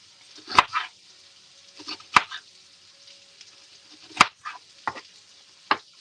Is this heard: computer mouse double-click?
no